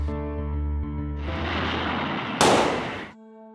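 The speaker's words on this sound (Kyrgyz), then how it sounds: "Андан кийин титр учурунда тапанча атылган үндү угабыз." A pistol shot over the closing credits of the Brigada crime series, a sharp loud crack with a bright burst that fades out against a steady musical tone.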